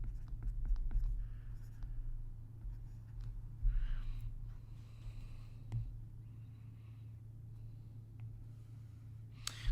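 Pen or marker scratching out a math formula on paper, soft scattered strokes and taps over a steady low hum, fairly faint and close.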